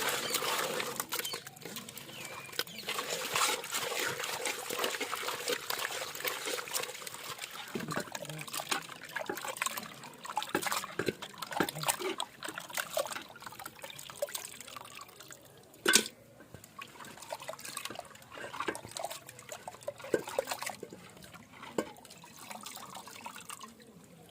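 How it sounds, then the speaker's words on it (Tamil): Stingray fish pieces are washed by hand in water with rock salt, giving soft, close drips, splashes and sloshing in an irregular patter, with occasional sharper splashes. "இப்போ இதில் கொஞ்சமாக கல் உப்பு போட்டு நல்லா கழுவி எடுத்துக்கலாம்."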